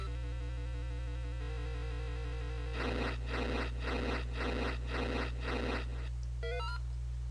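An ocarina melody, the Grand Mamu song from the Link's Awakening video game, plays as a rhythmic run of bright game notes over a steady musical drone, ending in a short rising chime.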